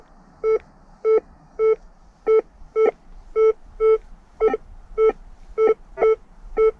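A Rutus Ultima metal detector gives a series of about twelve short, clean electronic beeps at a fairly regular rhythm, each tone crisp and evenly pitched over faint background noise.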